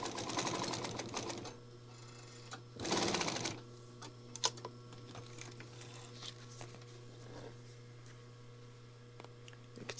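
A Juki sewing machine stitches folded material in short close bursts of rapid clatter over a steady motor hum, with quiet handling noises between runs.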